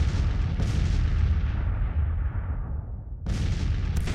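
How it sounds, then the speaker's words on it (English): Artillery fire in a Civil War battle game: a sustained, loud, rumbling barrage of overlapping booms that fades gradually, then a fresh sharp blast near the end, with no talking. "Let that artillery do its work."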